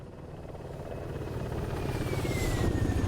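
Ka-50 Black Shark helicopter in a flight combat game, its rotor and turbine drone holding steady and loud throughout, slowly swelling, with a faint rising whine above it.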